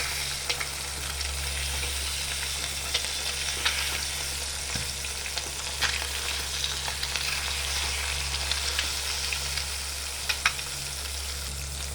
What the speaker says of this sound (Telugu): ఇప్పుడు కొంచెం ఉడికిన తర్వాత కలుపుకోవాలి ఇట్లా